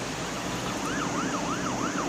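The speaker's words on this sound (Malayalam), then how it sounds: "മച്ചാൻമാരെ സൈറൺ സൗണ്ട് ഓഫ് ആക്ക്" A wailing emergency vehicle siren from the driving game Car Parking Multiplayer sweeps up and down in steady repeated cycles over a constant wash of engine and road noise.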